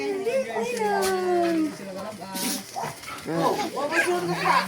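A dog whimpers and yips in short, high-pitched bursts close by, mixed with people talking over it.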